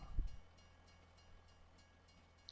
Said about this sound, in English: What kind of train do we got here?